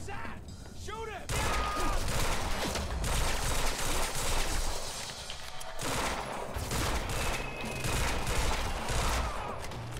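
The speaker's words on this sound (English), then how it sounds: "He's got a gun! Open fire!" Gunfire erupts in the video game Quantum Break, dense bursts of automatic shots in a loud sustained fusillade that runs almost throughout, with shouting voices mixed in.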